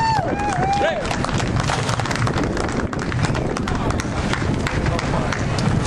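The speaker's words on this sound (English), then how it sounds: "Please give a warm applause for Robert" Applause from a crowd at a Tax Day rally for a mayoral candidate, steady dense clapping throughout with a few whoops and cheers rising early on.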